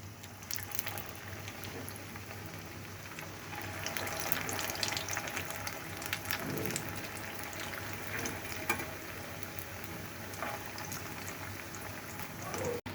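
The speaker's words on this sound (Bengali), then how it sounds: "তেল গরম হয়ে গিয়েছে, এগুলি আমি ভেজে নিচ্ছি।" Chicken chili pieces frying in hot oil for a quick afternoon snack, giving a steady bubbling sizzle that runs throughout at moderate level, with no talking.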